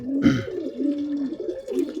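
A male domestic pigeon coos up close, a few low throaty rolling calls in quick succession, with no other sound competing.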